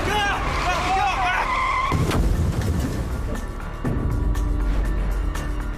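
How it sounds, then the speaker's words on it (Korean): In a sudden road traffic accident, a car's tires squeal sharply, then a heavy broadband crash and rumbling noise follow, loud and continuous, with voices faintly underneath. "순식간에 벌어진 끔찍한 교통사고."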